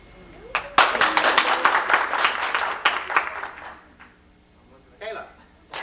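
A reunion crowd for a college class's tenth reunion claps in a loud, dense burst of applause lasting a few seconds, then fades out, with a brief second smattering of claps near the end.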